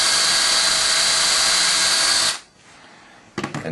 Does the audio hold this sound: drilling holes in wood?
yes